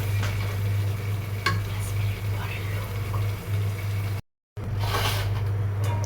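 Beef bhuna is stirred as it fries in a pan, a low sizzle with soft scraping strokes close by and a momentary gap of silence before the frying sound resumes.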